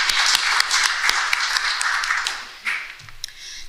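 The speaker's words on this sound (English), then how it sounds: "So another round of applause." Audience at a disaster resilience symposium gives a round of applause, dense clapping that fills most of the moment before thinning out into a few scattered claps at the end.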